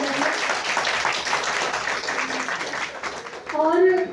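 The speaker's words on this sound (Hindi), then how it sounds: "तो एक बार पुनः उनके लिए तालियां बजाइए।" An audience at a Hindi poetry recital claps in a dense burst that thins out, and a voice speaks over the tail end.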